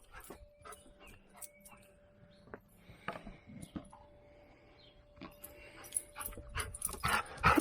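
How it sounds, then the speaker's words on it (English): A dog close by making scattered low growls, grumbles and small yips while playing with a thrown toy, amid handling clatter, getting louder toward the end. "No growling."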